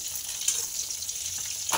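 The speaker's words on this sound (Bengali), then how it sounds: "পটল ভাজা তো আমার এখানে দেখুন হয়ে এসছে" Pointed gourd (potol) slices frying in a pan give a soft, steady hiss of oil for under two seconds, ending in a brief louder clatter.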